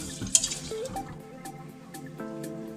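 Water is poured over rice in a bowl for a chicken thieboudienne and swirled by hand, with a splash at the start, then soft sloshing and light watery clinks, close and fairly quiet.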